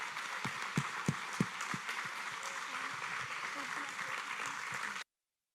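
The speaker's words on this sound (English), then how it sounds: "And one more round of applause for all of our fantastic drivers tonight." Audience applause at a Driver of the Year awards ceremony, a steady wash of many hands clapping for about five seconds, with a few louder close claps near the start before it cuts off abruptly.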